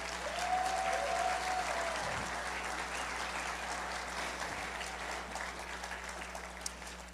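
A crowd at a solar company's campaign launch event applauds continuously, a steady, full clapping texture at even volume, with a faint tone and a low electrical hum running beneath it.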